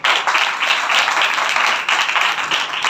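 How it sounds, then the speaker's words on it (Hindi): A church congregation at a Sunday service claps and applauds vigorously, a dense, continuous burst of hand claps filling the room for a few seconds. "जोरदार तालियां।"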